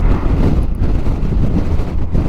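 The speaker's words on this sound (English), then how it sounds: "It is very windy today." Strong wind buffets a Honda Goldwing motorcycle whose windshield is raised to its highest setting, giving a loud, steady, low rumble of microphone wind noise with no speech.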